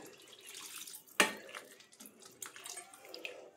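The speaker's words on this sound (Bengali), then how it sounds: "আমি এর মধ্যে দিয়ে দেব জল" Water is poured into paneer cooking in a pan, a quiet splashing trickle with one sharp splash early on and faint dripping and clinks after it.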